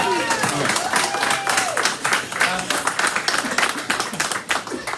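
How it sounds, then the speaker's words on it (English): A large crowd of audience members claps loudly and continuously at a live civic event in Cleveland, dense sustained applause with scattered cheers and voices mixed in throughout. "give yourselves a huge round of applause because Cleveland elected a new mayor"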